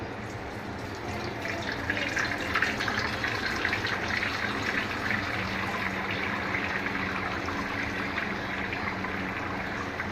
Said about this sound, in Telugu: ఈ వాటర్ మొత్తం ఇలా స్టెయిన్ చేసుకోవాలి.